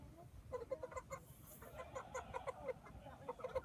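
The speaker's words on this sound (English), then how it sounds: "So you guys got unique chickens on here." Chickens in a pen of three at a fair cluck repeatedly in short, close, overlapping calls, with steady barn and crowd noise underneath.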